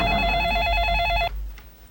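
A telephone rings with a steady electronic trill for just over a second, then stops, leaving a quiet room.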